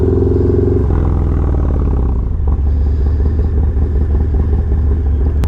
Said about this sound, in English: love the sound of that Vance & Hines 2-in-1 pipe